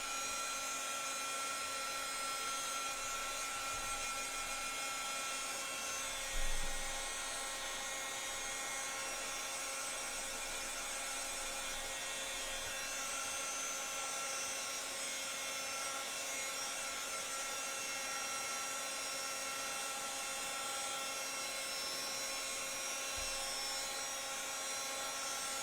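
A heat tool blows steadily and continuously to melt gold embossing powder on a mixed media craft piece, a constant airy whir with faint handling bumps and no talking.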